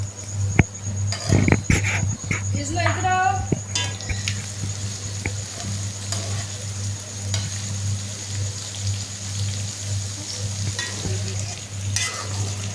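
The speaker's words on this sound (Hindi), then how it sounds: "ये साथ साथ कीमा भी फ्राई हो रहा है और ये शिमला मिर्च भी फ्राई हो रही है।" Minced meat and capsicum fry in oil in pans, with a constant close sizzle broken by a few sharp clinks and scraping stirs near the start, and no talking.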